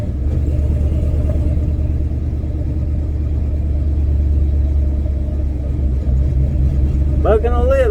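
Car with a big cam rolling at about 20 in 4th gear, engine rumbling low and steady with faint periodic bucking pulses, a voice speaking near the end.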